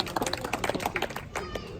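An audience at a No Barriers 2019 speech claps, stomps and snaps, a scattered patter of sharp hand claps and taps running steadily throughout, with a voice speaking briefly underneath.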